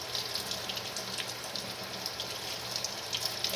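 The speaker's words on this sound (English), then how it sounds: "me rinse these tomato jars off" Tap water runs steadily into a sink while tomato jars are rinsed, a constant hissing flow with faint clinks, heard alone and fairly close.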